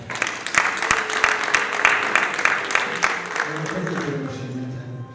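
Applause rises from a gathering at a wedding-style family event, a steady patter of clapping under a speaking voice, thinning out toward the end as a low hum remains.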